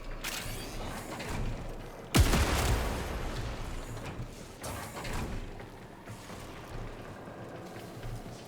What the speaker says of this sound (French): En gros, c'est une espèce de mitrailleuse, hein, mais une grosse mitrailleuse.